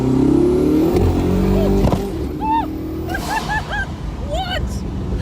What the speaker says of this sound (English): There was that massive pop, and then you hear the turbos.